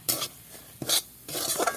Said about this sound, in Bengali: এবার আমি এই সুজিটা ভেজে নেব